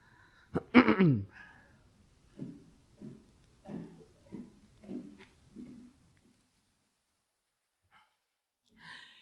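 One harsh, explosive cough up close, followed by a few short, low voiced sounds and then near silence.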